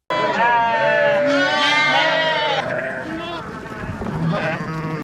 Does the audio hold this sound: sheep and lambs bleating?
yes